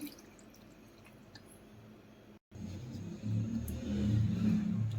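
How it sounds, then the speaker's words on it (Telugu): Water is poured into a pot of cabbage and soaked chana dal curry, a soft trickling splash that swells into a fuller, louder gush after a brief pause. "కొంచెం దీనిలో వాటర్ యాడ్ చేస్తున్నాను"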